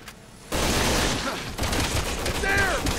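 Gunfire at a monster in Resident Evil 6 opens after a short quiet moment into a sustained, loud barrage of rapid shots with dense rumbling impacts and brief voice-like sounds mixed in near the end.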